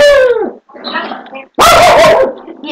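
A dog in Minecraft barks and yips in a few loud, close bursts separated by brief gaps, with a whimpering edge to the calls.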